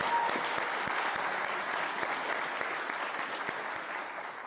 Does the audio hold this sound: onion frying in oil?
no